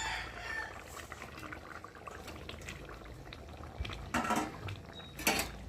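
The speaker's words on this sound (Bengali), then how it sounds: "তো দেখো আমার ঝোলটা ফুটে গেছে, আর একটু নেড়ে দেবো।" Pabda fish curry with aubergine and potato simmering in a pan: a low, steady bubbling hiss, with a few brighter clinks and scrapes of a utensil near the end.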